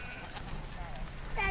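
Kiko goats bleat on a farm, their wavering cries rising near the end over a busy outdoor background with people talking.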